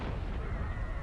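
A dense, rumbling boom from a car accident explosion in the Bleach Rebirth of Souls video game fills the moment, loud and continuous with heavy low-end weight.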